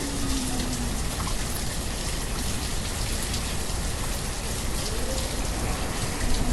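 Heavy rain in the video game Banished, a dense, constant, loud hiss of downpour that runs evenly throughout with no voices.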